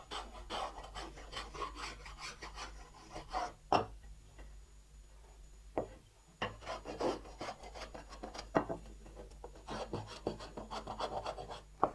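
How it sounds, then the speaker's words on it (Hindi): A four-inch hand plane shaving a wooden hammer handle, giving repeated rasping strokes in quick rhythmic bursts with a short pause midway, close and fairly quiet with no talking. "इसको फाइनल टच के लिए हम क्या करेंगे इसको चार इंची का रंधा लेंगे हम"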